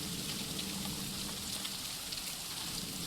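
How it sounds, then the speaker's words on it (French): Heavy rain pours steadily in the horror game The Third Chapter 1, set in a cursed pyramid: a loud, continuous, hissing wash of drops that fills the whole stretch with no pauses and no voices. "La pluie est très forte dans les oreilles."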